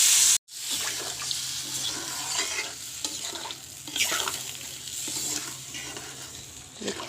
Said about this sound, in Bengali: কষানো হয়ে গেছে, এবার আমি জল ঢেলে দেবো।